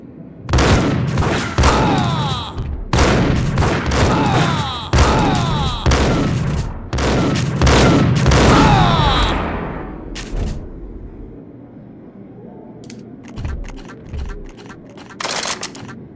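Gunfire from the Max Payne video game on Android/iOS: dense, loud bursts of rapid shots for about ten seconds, then a quieter stretch broken by a few short, sharp volleys.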